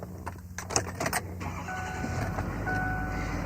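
A 2008 Ford F-Series diesel truck starts in minus 20 degree cold: keys jangle and clicks come first, then the engine cranks and catches into a low, steady rumbling idle, close and moderately loud.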